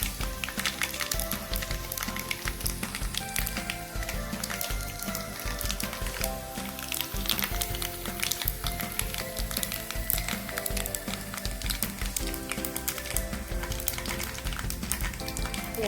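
Chopped garlic and whole spices sizzling in hot oil, a dense, steady crackling hiss with constant fine pops and spatters throughout, close and unbroken, with no voices.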